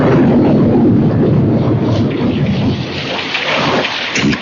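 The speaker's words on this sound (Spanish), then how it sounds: "El trueno retumbaba, el rayo caía" Heavy thunderstorm with loud rolling thunder rumbling over dense, steady rain drumming on surfaces, a continuous roar close by with no voices.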